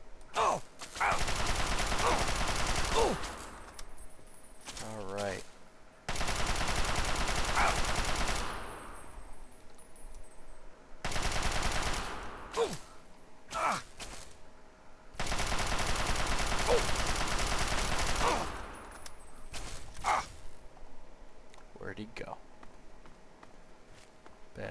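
Gunfire aimed at the player in Fallout 3, with the Orion's Gate mod, heard as sustained bursts of rapid automatic fire alternating with quieter gaps full of footsteps and groans, with a voice talking in places.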